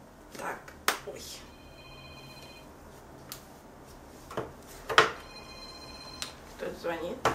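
A telephone rings indoors during a craft session, short electronic ring tones repeating under scattered clicks and knocks, moderately faint in the room.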